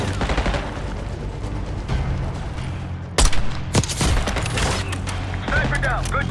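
Gunfire in a Call of Duty Black Ops 6 firefight, with a sniper among the shooters: dense, continuous volleys of shots under battle noise, then sharper, louder single cracks standing out near the middle and late in the stretch.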